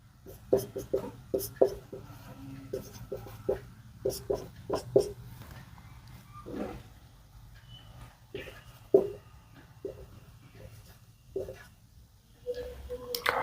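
Writing on a board during a physics lecture, close irregular taps and scratchy strokes in short clusters with pauses between, fairly quiet, with brief sounds from the room between strokes.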